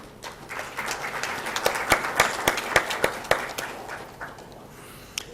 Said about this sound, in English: I think you ought to applaud it.